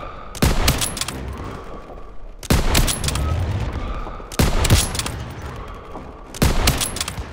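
Gunfire in Call of Duty: WWII, during a street battle in Marigny, France, 1944, comes as four loud, evenly spaced bursts of shots, each followed by a rumbling tail of battle noise.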